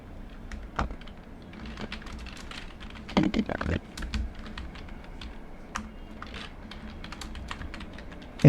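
Rapid bursts of keystrokes on a computer keyboard while an address is entered into Tally Prime accounting software, close and clear with short pauses between runs of typing.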